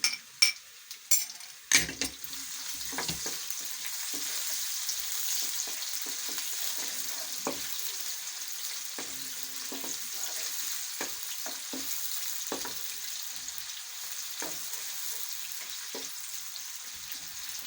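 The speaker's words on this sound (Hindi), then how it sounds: "प्याज को हम अच्छे तरीके से फ्राई कर लेते हैं।" Onions fry in a pan for kadhi pakora with a steady, close sizzle after a few sharp clinks of a utensil stirring against the metal at the start.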